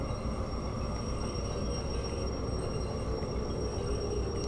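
A long freight train in the railway simulator game Derail Valley rolls with a steady rumble of wheels and faint high metallic brake squeal under a constant low drone, with no talking.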